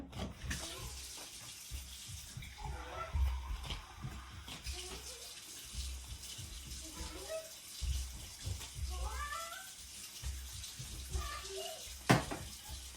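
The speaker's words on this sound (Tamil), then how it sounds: "இப்போ தண்ணி வந்து சேர்க்கிறேன் நான்" Water is added to Punjabi samosa dough, a faint splashing and trickling with soft handling noises, heard under a person speaking nearby.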